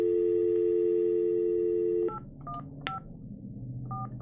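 Telephone keypad tones dialing a number at a committee meeting, heard after a steady dial tone ends: a short run of distinct beeps, fairly close and clear, with no talking.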